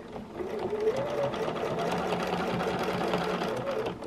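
A sewing machine stitches a circle guided by a quilting ruler, its motor whirring and needle tapping in a close, steady, unbroken run.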